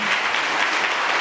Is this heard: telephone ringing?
no